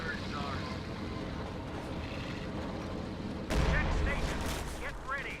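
Priest self-propelled artillery firing in a strategy game, a sudden heavy boom midway that rolls on loud and close, over a busy battlefield backdrop and a voice talking throughout.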